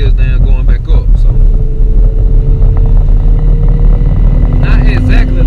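A turbocharged Camaro with a TH400 reverse manual valve body transmission, driving with a loud, steady engine roar and a rising turbo whine, plus wind buffeting and brief bursts of noise at the start and end.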